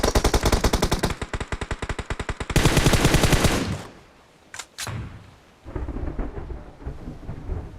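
Rapid automatic gunfire in PUBG Mobile rattles out in loud, fast bursts for several seconds, followed by a quieter lull with a couple of isolated shots and distant rumbling.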